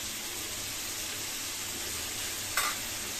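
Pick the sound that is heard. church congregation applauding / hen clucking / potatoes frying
potatoes frying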